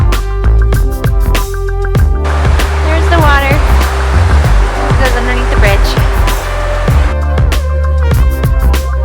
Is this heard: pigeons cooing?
no